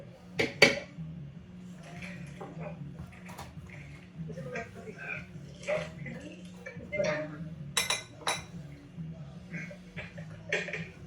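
A teaspoon of stevia goes into a cocktail with several light clinks of spoon against glass, faint and close, while a person talks throughout.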